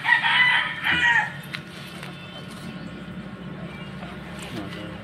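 A fighting cock on a farm crows once, close and loud, in a drawn-out call that lasts about a second. Afterward comes a quieter stretch of low background noise.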